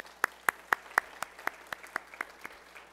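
Slow, evenly spaced claps ring out at a seniors rally, about four per second and fairly faint, with no talking over them.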